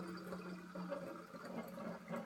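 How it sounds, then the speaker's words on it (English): Water kefir liquid is poured from a container into a bottle, a gentle gurgling splash and trickle that runs unevenly for a couple of seconds, close and fairly quiet, with no talking. "So you're just going to take this and pour it on into your bottle."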